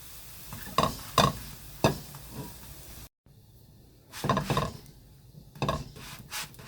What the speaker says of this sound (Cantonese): 每邊煎2分鐘到啦